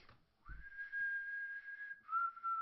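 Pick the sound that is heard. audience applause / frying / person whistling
person whistling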